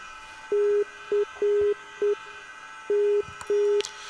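A VOR navigation radio sends its Morse code identifier as a steady pure tone in short and long beeps, a clean keyed pattern over faint hiss.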